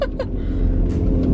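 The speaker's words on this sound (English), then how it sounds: "I'm driving." A car's engine and road rumble fill the cabin with a steady, loud low drone while it drives, with a faint voice at the very start.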